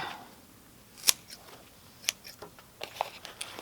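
Sharp snips of scissors cutting through a plant branch, a few crisp clicks spaced apart in a quiet setting, with faint rustling between them.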